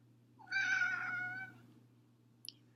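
A cat gives a single drawn-out meow, close and fairly quiet, while nail caps are being put on its claws, followed by a couple of faint clicks.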